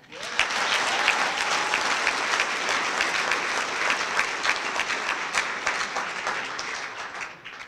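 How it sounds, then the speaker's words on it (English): Audience at a high school football banquet giving the players a big round of applause, dense steady clapping from many people filling the room, fading at the end. "Can we have a big round of applause for them?"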